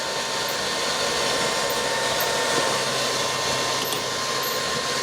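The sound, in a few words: compressor pulling vacuum on repurposed helium tank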